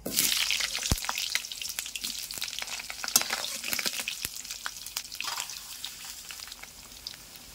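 Cut potatoes drop into hot oil and fry with a loud, close crackling sizzle full of sharp pops and spits, easing slightly toward the end.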